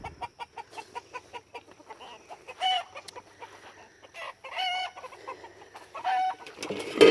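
Chickens cluck and squawk in a backyard garden run, a busy stream of short calls near and far with a few louder bursts toward the end.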